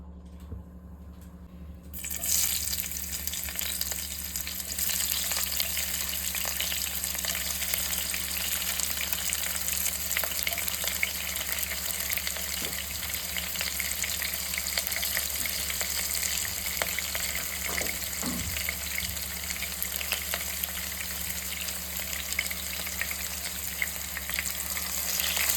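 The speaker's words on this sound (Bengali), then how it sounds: "তারপর ওই তেলের মধ্যে দিয়ে দিচ্ছি ঘি, এরপর দিয়ে দেবো পেঁয়াজ" Onions hit hot oil and ghee for Kolkata-style biryani with a sudden loud sizzle that settles into a continuous close frying hiss, with occasional faint stirring scrapes and no talk.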